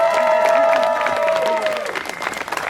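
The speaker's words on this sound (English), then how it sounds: "could have everyone give Baranor a round of applause for all the work he does" An audience at an Okfest 2024 ranger ceremony claps, a loud, dense round of applause that thins out toward the end, with a voice briefly heard over it at the start.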